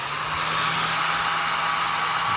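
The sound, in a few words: hair dryer on low heat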